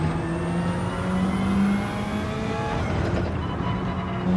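A car engine in Gran Turismo 7 revs steadily under throttle, a loud, sustained tone that holds its pitch and rises slightly with no voices over it.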